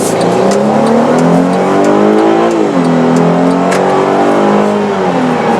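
A 2015 Mercedes-Benz GLK350 4matic SUV with its V6 accelerating hard in sport mode, engine note rising loud and close through a gearshift and climbing again, heard from inside the cabin.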